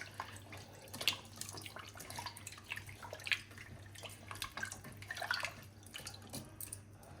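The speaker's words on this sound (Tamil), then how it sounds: "மட்டனில் வந்து தண்ணி, இந்த மட்டன் வந்து மூழ்கிற அளவுக்கு தான் தண்ணி ஊற்றணும்" Water is poured into a pot of mutton for biryani, until the meat is just submerged, with quiet splashing and trickling over a low steady kitchen hum.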